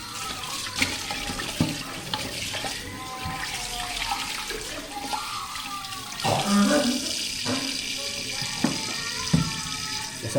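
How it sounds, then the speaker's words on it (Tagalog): Tap water runs steadily into a sink while beef is washed, a continuous splashing hiss with occasional knocks and clatter, recorded close by. "Hugasan muna natin."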